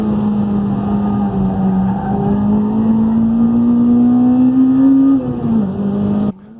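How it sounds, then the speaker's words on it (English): A Honda Type R driven hard on the Mondello track, its engine droning steadily as Pirelli P Zero tires squeal in a continuous high whine, then cutting off abruptly near the end. "it came in on a set of Pirelli P0s, which are not a very track-focused tires, so you can really hear them screaming"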